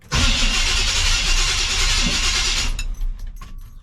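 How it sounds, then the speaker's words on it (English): The starter cranks a big-block 454 engine in a Chevrolet C10 truck, a loud, steady whirring drone held close for nearly three seconds before cutting off, followed by a few light clicks. "that's just how the starter sounds."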